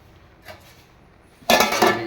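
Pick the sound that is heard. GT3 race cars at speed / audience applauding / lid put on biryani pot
lid put on biryani pot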